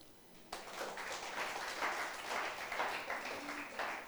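A church congregation breaks into applause partway in, a moderately faint, sustained patter of many hands clapping at a distance with no voices over it.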